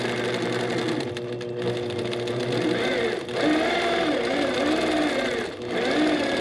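Sewing machine with a couching foot stitching fast and steadily, a close, continuous mechanical whir with rhythmic needle clatter, briefly slowing twice as curves are sewn.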